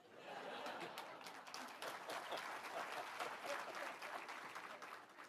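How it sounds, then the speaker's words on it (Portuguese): Audience applause with scattered laughter at a round-table panel discussion, a steady broadband wash of clapping lasting several seconds at moderate distance, with some voices mixed in. "Se fosse eu, aplaudir agora."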